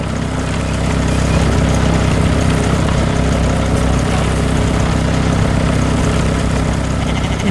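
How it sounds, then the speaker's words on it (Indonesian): An animated green farm machine works across a field with a continuous, loud, low engine drone and steady rumble, unbroken throughout with no talk. "Mesin pertanian hijau sedang bekerja keras di tengah sawah"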